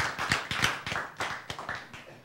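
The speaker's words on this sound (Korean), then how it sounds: "박수." A small audience at a lecture gives a short burst of clapping, about a dozen distinct, fairly close claps in loose rhythm over two seconds.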